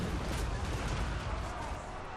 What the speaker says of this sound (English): Cannon's getting a little overzealous here.